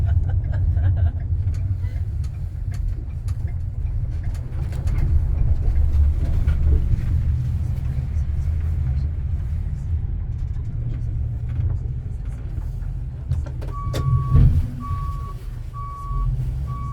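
A tour bus rolls along on a sunny day in Sitka, its engine giving a steady low rumble throughout, with a repeating electronic beep joining near the end.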